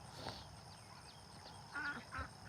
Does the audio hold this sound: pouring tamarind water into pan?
no